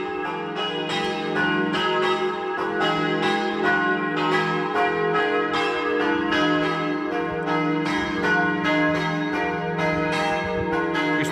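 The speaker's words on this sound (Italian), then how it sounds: "il suono melodioso delle campane che ci invitano alla preghiera." Church bells ring from the tall bell tower of the church at Torlano, a sustained melodious peal with repeated overlapping strikes and long ringing tones throughout, with no voices.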